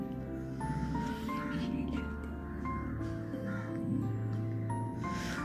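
Birds call repeatedly among trees at Akkulam tourist village in Thiruvananthapuram, with crow-like caws and higher chirps scattered over a steady low outdoor hum, moderately distant and fairly faint.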